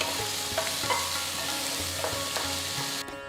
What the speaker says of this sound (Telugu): ఆ తర్వాత చిన్నగా తరిగిన ఒక పెద్ద ఉల్లిపాయ వేసి వేయించాలి.